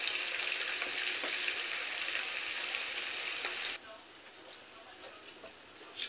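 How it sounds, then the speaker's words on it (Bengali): Paneer cubes frying in oil and being turned and stirred, a bright steady sizzle for several seconds that then drops abruptly to a quieter crackle with a few light scrapes. "আমি সমস্ত পনির একসাথে এপিট ওপিট একটু নেড়ে নেব"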